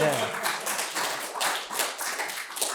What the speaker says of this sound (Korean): 박수 한번 주세요, 이럴 때.